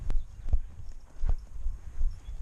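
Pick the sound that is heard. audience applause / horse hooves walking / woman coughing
horse hooves walking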